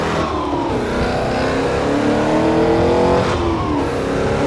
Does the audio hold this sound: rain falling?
no